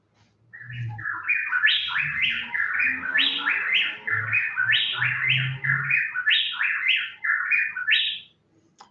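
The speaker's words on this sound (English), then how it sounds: "the two animals, although they couldn't see each other, were perfectly fine at singing a duet" Two caged wrens sing a duet while separated by an umbrella, trading rapid, bright chirping phrases in a tight alternating rhythm, with lower soft notes beneath, continuous for several seconds.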